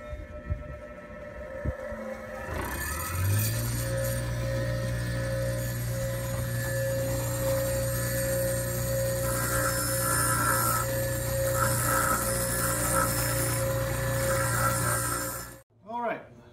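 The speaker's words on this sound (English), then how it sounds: "I'm going to use the silicon carbide wheel to just bevel my edges with a little finer of a finish." A silicon carbide grinding wheel bevels the edges of crystalline pottery with a continuous, fairly quiet whirring hum and faint scraping grit for about thirteen seconds before spinning down, with occasional voices in the background.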